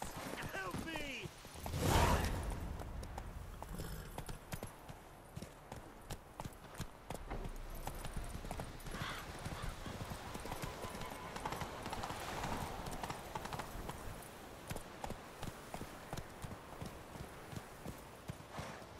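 Clip-clop of Roach's hooves in The Witcher 3 video game, a brisk steady rhythm of horse steps running through the whole stretch, with a louder burst early and voices talking over it.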